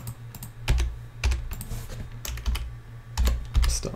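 Keys on a computer keyboard are struck in irregular bursts of sharp clicks, close and fairly loud, with brief pauses between clusters.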